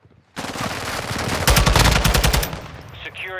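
Rapid automatic gunfire in the Call of Duty: Modern Warfare II video game crackles in a dense, loud burst lasting a few seconds.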